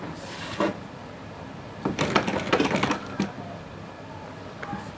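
A sewing machine stitches trousers, running in short bursts of rapid mechanical clatter separated by quieter pauses, close and fairly loud.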